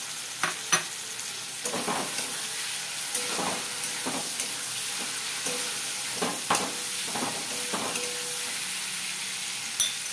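Green chillies and raisins stirred in a frying pan with a steady sizzle, scraping stir strokes recurring throughout and a couple of sharper clinks near the start and end, close by with no talking.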